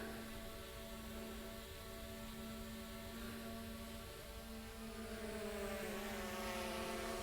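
A DJI Mini 4 Pro drone hovers close by, its propellers giving off a steady, high, buzzing whine with layered tones that shift slightly in pitch as it holds position, with no speech over it.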